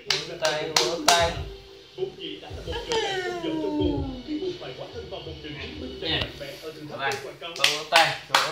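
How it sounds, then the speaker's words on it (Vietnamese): A baby claps, with a quick burst of sharp hand slaps at the start and another toward the end, in between an adult's voice and a child's whimpering vocal sounds. "Vỗ vỗ tay mà, vỗ tay mà."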